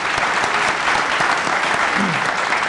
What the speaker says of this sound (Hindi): ताली होनी चाहिए आयशा के लिए